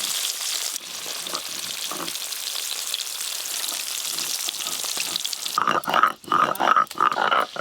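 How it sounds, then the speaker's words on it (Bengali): Bhola fish frying in hot oil, a steady crackling sizzle running throughout at close range, with a louder burst of spattering toward the end. "এবার মাছগুলো ভেজে নেব"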